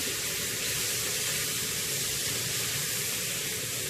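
Shrimp sautéing in masala for a Marathi shrimp curry, a steady, dense hissing sizzle from the pan, close and constant with no talking.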